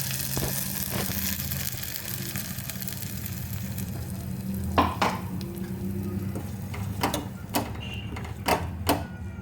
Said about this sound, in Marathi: थोडे जिरे थोडी मोहरी घालूया चटणी घालूया आपण त्यामध्ये